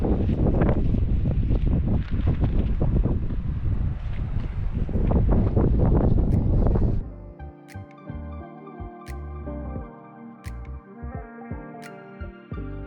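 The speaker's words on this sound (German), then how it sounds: "Es ist super windig, die Sonne scheint nur kurz durch." Strong wind in Göreme roars and buffets the microphone for several seconds, then drops to a lower, gusting rush over fainter background sounds.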